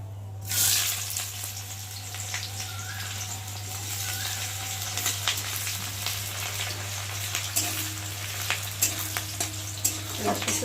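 Chopped onion sizzles steadily in a hot pan, a dense crackling fry with occasional stirring scrapes, fairly quiet under a constant low hum.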